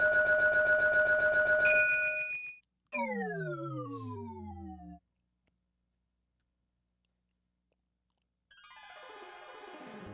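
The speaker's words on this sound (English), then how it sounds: "then of course the crossing and its siren" Railroad crossing siren in the video game TAMA: sustained electronic tones, then a falling, pitch-bending wail, a pause of silence, and a burst of dense tones returning at the end.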